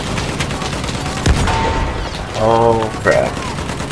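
Gunfire in Battlefield 1 during a tank battle: a sharp shot and a couple of booming blasts with rumbling echoes, while someone speaks briefly over the noise.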